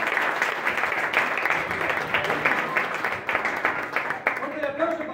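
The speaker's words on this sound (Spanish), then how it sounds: "fuerte el aplauso para José Ingaramo" An audience applauds a named man at an event, a continuous crowd clapping mixed with voices and cheering, with someone speaking over the noise near the end.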